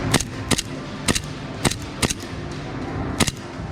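Airsoft gun firing seven sharp, snappy shots at uneven intervals, close by over a steady outdoor background noise.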